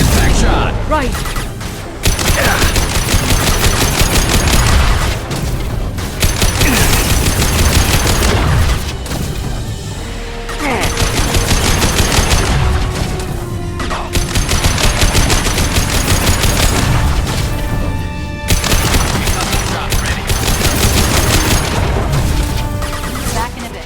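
Heavy, loud gunfire from Mass Effect 2 during the Lair of the Shadow Broker mission, sustained bursts of automatic fire and booming impacts filling most of the stretch, with brief lulls between volleys and some voices mixed in.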